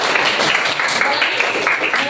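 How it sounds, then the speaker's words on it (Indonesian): Classroom of students applauding, a continuous dense patter of many hands clapping at close range, fairly loud throughout, with voices mixed in underneath. "Kasih tepuk tangan."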